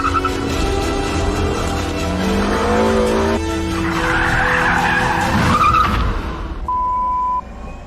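Tires screech loudly in a sustained skid as a car slides through a handbrake turn, the engine droning underneath before the squeal fades.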